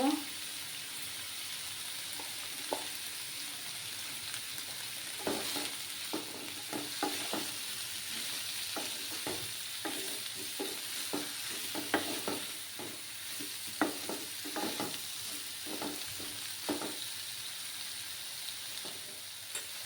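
Dry fish, potato and brinjal frying in a pan give a quiet constant sizzle, broken by repeated scraping knocks of stirring spread across the whole stretch.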